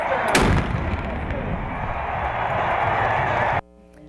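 Ceremonial cannon named Comatose fired by a CSU ROTC cannon crew: one sharp, loud blast near the start, followed by a long rumbling echo and crowd noise that cuts off abruptly.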